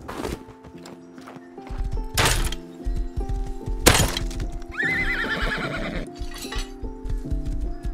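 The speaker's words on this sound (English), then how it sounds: "This horse is very slow." A horse in the survival video game Rust whinnies loudly several times over steady clip-clopping hooves and scattered thuds, close and prominent throughout.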